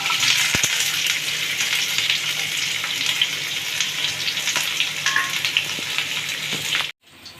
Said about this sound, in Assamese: এতিয়া ইয়াতে মই পিঁয়াজখিনি ভাজি ল'ম